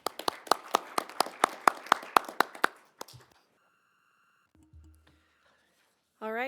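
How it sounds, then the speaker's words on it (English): A short burst of sparse clapping from a few people at a board meeting, about three seconds, then near silence with faint electronic tones. "we can give her a little round of applause"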